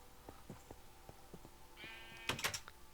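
A video game sheep gives a short, bright bleat near the end, after a series of soft, evenly spaced clicks and taps.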